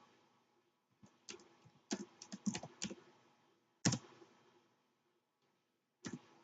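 Keys clack on a computer keyboard as a short command is typed, a few irregular clusters of close, crisp taps with pauses between them over a quiet background.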